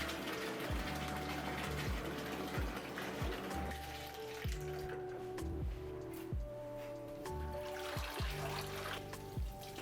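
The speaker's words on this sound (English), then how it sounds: "I began by hand washing the shirt." A wool shirt is hand washed in cool water with a mild no-rinse wool detergent, producing rhythmic sloshing and splashing over steady background music.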